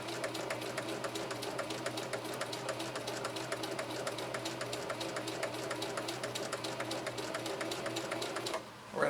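A Singer Heavy-Duty 4423 sewing machine fitted with a Schmetz 9014 universal needle stitches steadily with a fast, even mechanical chatter, loud and close, running alone until it stops abruptly near the end.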